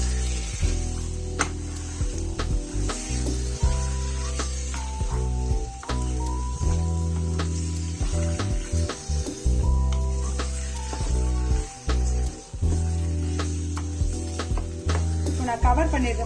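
Turkey pieces sautéing in a pan, with a continuous sizzle running throughout, interrupted by clicks and scraping knocks from stirring, while a voice talks over it.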